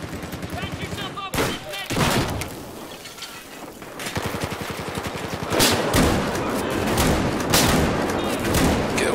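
Shotgun fire in Battlefield 4 close-quarters combat: a series of loud, sharp blasts in quick succession over steady background game noise, with a player talking intermittently.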